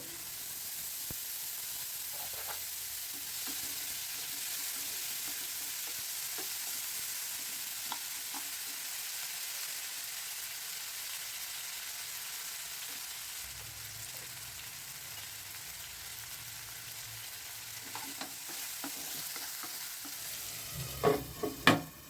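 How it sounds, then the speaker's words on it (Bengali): Sweet potato pieces fry in oil with dried chillies, producing a quiet, even hiss and faint sizzle over a long stretch, with a few soft utensil taps that grow louder near the end. "আলুগুলোকে একটু হালকা লাল করে ভাজবো"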